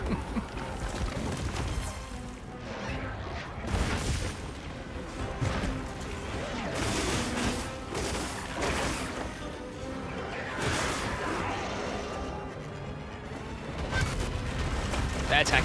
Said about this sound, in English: because those explosions deal quite a bit of damage to us